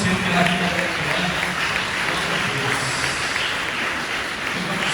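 A church congregation at an evening worship service applauds to welcome a woman named Eliana, a steady wash of clapping from many hands, with some voices mixed in underneath.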